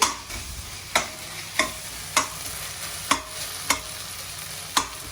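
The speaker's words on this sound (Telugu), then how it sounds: "మన టమాటా వేగాలి" Tomatoes fry in a pan for a dum aloo masala curry, giving a soft continuous sizzle. A spatula scrapes the pan at regular intervals, making sharp clicks about every second.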